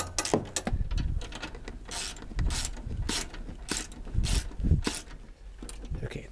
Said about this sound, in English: I'm going to get my wrenches, and I'm going to tighten up all of these nuts.